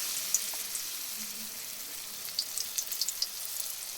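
White sesame seeds fry in oil over a very low flame, giving a faint, even hiss with a few small pops and crackles scattered through.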